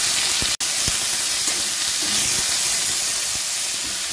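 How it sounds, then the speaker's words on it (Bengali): Small pieces of chicken added to a pan of fried chopped ginger and garlic give a steady, loud sizzling hiss that continues throughout. A single sharp click comes early, and no one speaks. "আদা কুচি রসুন কুচি একটু ভেজে নিয়েছি, এবার দিয়ে দেব চিকেনটা।"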